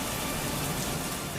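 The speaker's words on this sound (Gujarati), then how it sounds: "વરસાદથી શંકર ધોધ જીવંત થઈ ગયું છે।" Shankar waterfall in Gujarat, swollen after heavy rain, pours with a steady, dense, close rushing roar and no voices.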